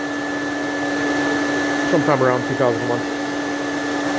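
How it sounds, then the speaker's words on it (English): A 2001 Thermax water-filter vacuum cleaner runs steadily in a kitchen, sucking pepper dust from the air with a constant loud whine; someone speaks briefly partway through. "It's sucking the dust right out of the air and putting it in the water. It's a little bit noisy."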